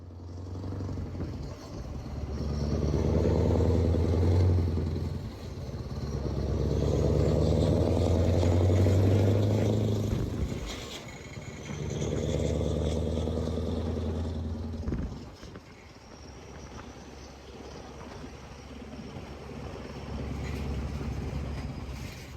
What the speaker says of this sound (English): Now this was one of my favourites, this truck on the left. It sounded so good